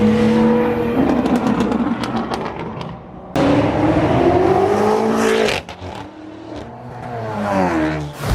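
Supercar engines at a meet fire up and rev hard close by, long rising roars that cut out abruptly and swell again over a steady growling idle.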